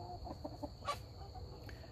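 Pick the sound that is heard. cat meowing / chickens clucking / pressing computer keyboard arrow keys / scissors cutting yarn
chickens clucking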